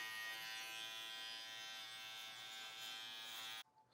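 An electric hair trimmer held upside down buzzes steadily and close during a low fade on afro hair, then cuts off abruptly near the end.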